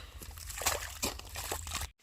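Irrigation water sloshing and splashing into a maize field in short uneven bursts, close by, over a low background rumble, ending in a brief silence.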